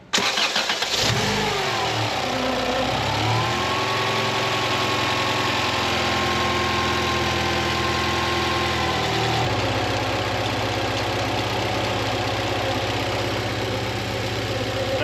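A Honda Civic engine on a dyno fires up, then runs loud and steady at a constant speed before settling to a slightly lower, even tone, with no one talking.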